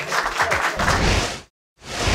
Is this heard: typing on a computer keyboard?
no